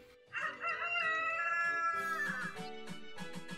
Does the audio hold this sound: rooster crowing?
yes